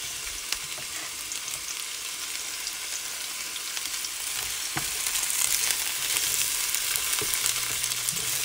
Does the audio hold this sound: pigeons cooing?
no